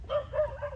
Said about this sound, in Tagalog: Ayun, biglang tahol eh.